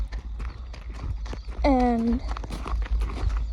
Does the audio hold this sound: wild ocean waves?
no